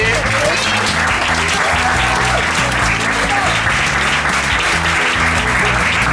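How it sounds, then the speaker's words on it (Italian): Audience at an APU Basket Club party applauding, a loud continuous wash of clapping with music playing underneath and a voice over the top. "farei un applauso a tutti voi che siete qui stasera"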